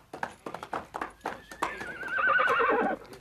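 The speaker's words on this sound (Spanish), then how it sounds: "Son los caballos del comandante." Horses kept in a makeshift infirmary stable in Cuba stamp and shift with rhythmic hoof clops, then one lets out a loud, drawn-out whinny close by.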